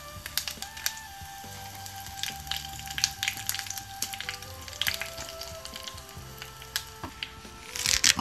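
Green chilies crackling in a very hot pan while banana stem stir fry is cooked, a close continuous sizzle with sharp pops and spatters, a faint steady hum underneath and a louder burst of crackling at the end.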